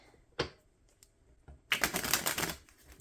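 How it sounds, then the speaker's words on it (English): Tarot cards are shuffled in a few crisp riffling bursts, a short flick followed by a longer, rapid rattling flutter close by, with no voices. "We're going to shuffle one more time here"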